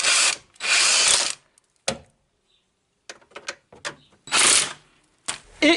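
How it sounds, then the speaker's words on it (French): Impact wrench tightening the bolts on a Renault Twingo during clutch work, firing in three loud, rattling bursts of about a second each, separated by quiet gaps and short metallic clicks. "La déboulonneuse, c'est juste pour rapprocher les boulons"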